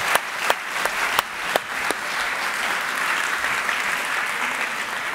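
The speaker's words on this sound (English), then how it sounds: "A big round of applause for Debbie." Loud audience applause in a hall after a volunteer helps with a magic trick on stage: a few crisp, prominent nearby claps at first, then a dense, steady wash of clapping with no talking.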